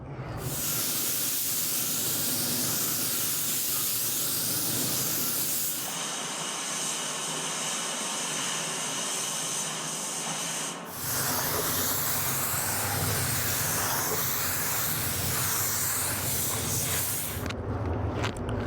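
Spray gun laying down a black base coat on a Bronco build, a continuous loud hiss of atomized paint that cuts out briefly mid-pass and then resumes, with no talking.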